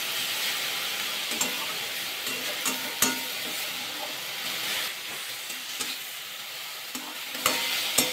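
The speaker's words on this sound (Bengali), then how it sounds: "হালকা একটু ভাজা করে নেবো" Chicken, egg and green chilli frying together in a pan, a steady close sizzle and hiss with occasional scraping stir clicks, no voices.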